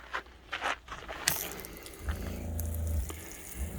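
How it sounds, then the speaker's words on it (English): Water sprays from the outdoor shower at the back of a 2020 Sprinter 170 4x4 camper van, starting with a few clanks and taps before a steady, fairly close hissing rush settles in. "you can take a shower, rinse gear off back here if you want to."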